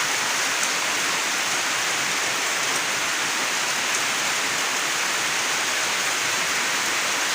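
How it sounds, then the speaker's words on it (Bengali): Rain falls in a steady, dense hiss that holds even and unbroken from start to finish, near and fairly loud, with no voices. "শান্তির বৃষ্টি হইতেছে।"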